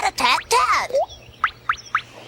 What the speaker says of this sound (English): Those are drops of water falling from the icicles.